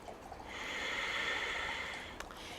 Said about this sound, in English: We'll take one more breath, full deep breath